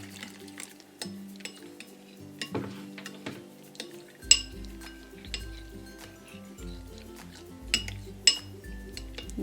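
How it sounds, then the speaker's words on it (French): Clinks and scrapes of a utensil stirring Marseille soap flakes in hot water in a container to make slime, a steady run of small close taps and knocks with light liquid sloshing, alone with no voices. "mettez de l'eau chaude à l'intérieur et on va remuer"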